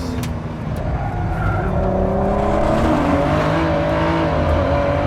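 Ford GT supercar engine driving fast on a track, loud and close, rising and falling through revs with tire squeal and skidding mixed in, no speech.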